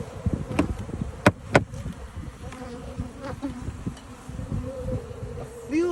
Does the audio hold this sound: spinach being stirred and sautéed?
no